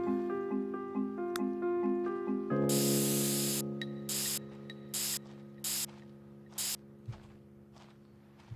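Spray tool in The Sims 3 building mode: a long, loud broadband hiss starting partway in and running on over a sustained musical tone, followed by several short repeated spray bursts at regular intervals.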